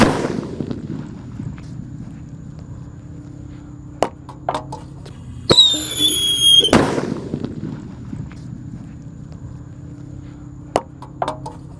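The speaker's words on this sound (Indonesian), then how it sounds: "ada mercon rambo yang akan kita tutup dengan baskom yang ketiga guys, yang paling besar ini" A loud Rambo firecracker bang under a basin, a sharp, crackling burst lasting about a second, followed by scattered pops and rattling debris in the quiet afterward.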